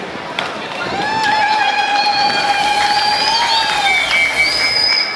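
Applause and crowd cheering welcome Father Laurent Talmo at a church ordination celebration in Kinyerezi. Sustained, dense clapping fills the hall, with high ululating voices rising above it.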